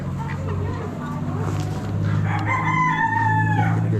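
A rooster at a poultry auction with breeder pens and Wyandotte hens crows once, a loud drawn-out call in the second half, over a constant hubbub of clucking birds and a low mechanical drone.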